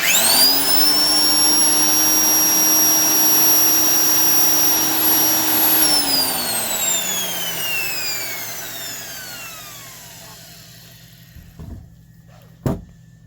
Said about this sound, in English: Just sounds like one of those old vacuum cleaners, not the modern ones with really high-speed motors